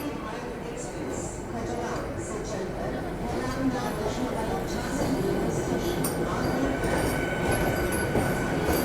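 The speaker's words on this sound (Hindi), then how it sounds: "डिपार्ट होने वाला है वंदे भारत एक्सप्रेस का ग्वालियर जंक्शन से" Vande Bharat Express (22469, Khajuraho to Nizamuddin) departing Gwalior Junction, a steady low rumble of a train pulling out that swells slightly as it gathers speed, with faint talk in the background.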